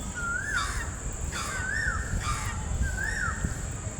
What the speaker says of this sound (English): it's night time, so all the birds are going to sleep